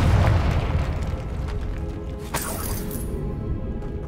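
A Confringo fire spell explodes in Hogwarts Legacy, a deep booming blast that rumbles and decays over several seconds, loud and close, followed by a bright crackling burst.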